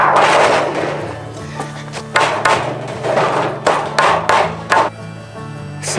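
A hammer pounding a jagged metal stovepipe flat at an off-grid mountain cabin build, several sharp, loud ringing blows struck at irregular intervals with metallic resonance between them.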